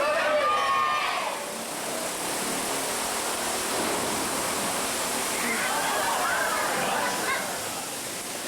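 A large volume of water is released into a studio water tank by a mechanical special-effects lever, producing a loud sustained rushing, churning roar with splashes, while voices talk briefly at the start and later.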